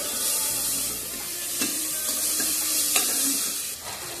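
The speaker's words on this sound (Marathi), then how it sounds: "टमाटे, 1-2 मिनिटे सर्व परतून घेऊया।" Peanuts and tomatoes stir-fry in a hot pan for a Gujarati dal dhokli, a steady close sizzle broken by a few sharp scrapes and clinks of the spoon, with no voices.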